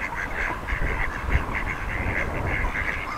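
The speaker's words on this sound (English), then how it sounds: "Hi, ducks." A group of ducks quacks repeatedly on an urban canal walk, the calls fairly close and steady against a hum of outdoor background.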